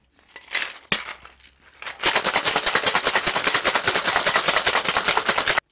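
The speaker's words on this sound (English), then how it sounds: "Fill your shaker with ice. Pop your tin on, and then you just want to shake for about 10 to 12 seconds." A cocktail shaker full of ice is shaken hard, first with a few loose clinks as the tin goes on, then a loud, fast, steady rattle of ice against metal for several seconds.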